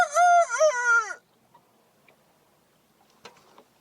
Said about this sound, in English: I've got a dag-blasted rooster a-crowing in my video over here.